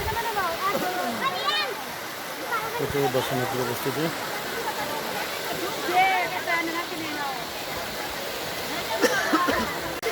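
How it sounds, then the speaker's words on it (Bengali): Constant rushing water roar of Shoilopropat waterfall near Bandarban, falling into a deep gorge, with people talking over it and crowd voices in the background. "এই যে দেখেন ঝর্ণা পানির যে গভীর খাদের মধ্যে গিয়ে পড়তেছে পানিটা এসে"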